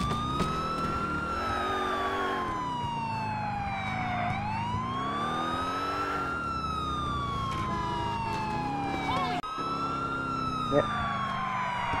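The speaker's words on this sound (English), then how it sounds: "Yeah, I can hear the police cars now" Police car sirens in the LCPDFR police mod video game wail in long rising and falling sweeps, loud and continuous across the whole stretch, over a low engine rumble.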